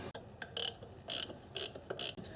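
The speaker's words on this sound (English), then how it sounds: "if you need to use the ratcheting side, it's easy enough to do so" A ratchet wrench clicks through several short bursts of quick pawl clicks, close up, as it loosens the captive 10mm fasteners on a Subaru ignition coil assembly; no talking.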